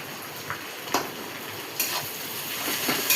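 Mashed potatoes are stirred into hot oil with onion and ginger, giving a soft continuous frying hiss with a few sharp scrapes of the spoon against the pan, close and fairly quiet.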